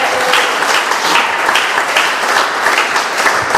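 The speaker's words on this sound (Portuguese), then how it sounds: "dê um aplauso e um glória a Deus ao Senhor Jesus" A church congregation applauds during a worship service, with steady, dense clapping from many hands that stays loud and even throughout, with no talking.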